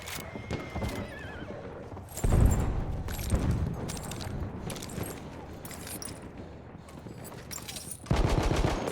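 Machine gun fire in Battlefield 1 from an M1909 Benet-Mercie in the Sinai Desert, rapid bursts of shots mixed with horse whinnies and hoofbeats, loud and close throughout.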